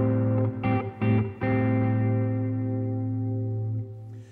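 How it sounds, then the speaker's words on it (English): Electric guitar strums a minor seventh chord through effects, with a few rhythmic strokes early on and then one chord left to ring and slowly fade, close and moderately loud with no talking. "a minor seven chord might look something like this"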